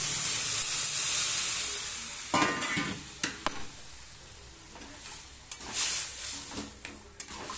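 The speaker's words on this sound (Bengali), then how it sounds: "এই আমার ডিম ভাজা হয়ে গেছে, এবার ঢেলে দেবো বেগুন আর আলু ঢেলে দেবো।" Sliced eggplant and potato tipped into hot oil over just-fried egg for a Bengali egg and eggplant curry, giving a steady close sizzle broken by a few sharp clatters of stirring.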